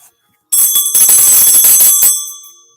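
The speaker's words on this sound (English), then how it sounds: "So I'm ringing the bell, opening things up." A bell rung once in a quiet room, bright and close, with a sharp onset and a ringing tone that sustains and slowly decays over about two seconds.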